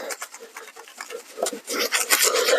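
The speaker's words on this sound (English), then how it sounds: "I'm going to work it in, giving the wheel a nice scrub" A brush scrubs a car wheel coated in watery Armor All wheel and tyre cleaner, giving a steady wet rasping and rubbing in uneven strokes that grow louder toward the end, close up with no voices.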